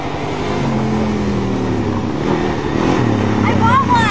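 An ATV engine hums close by at a steady pitch and then begins to rise as the rider gives it throttle.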